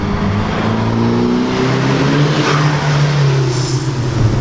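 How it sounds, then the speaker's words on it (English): A Nissan 180SX Sileighty with a turbocharged 2-liter engine pulls hard under acceleration, with a loud, steady drone and rising harmonics, heard from inside the car and with no talking. "For being a small turbocharged engine, I don't see how this thing is making so much power so quickly"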